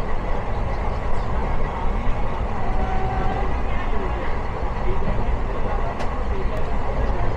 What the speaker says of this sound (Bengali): আমাদের ট্রেনের দ্রুত বেড়েই চলেছে।